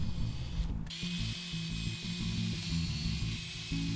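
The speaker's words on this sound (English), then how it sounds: "drill all the way through with an appropriate bit for your 1-inch screws" A power drill fitted with a bit bores through metal while a cross cut sled is being built, giving a steady mechanical whir with rapid ratcheting pulses that continues throughout with no talking.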